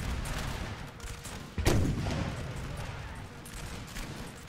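Cannons and muskets fire a volley on a Napoleonic battlefield in a strategy game, one sharp boom breaking through a continuous rumble of distant gunfire and battle noise.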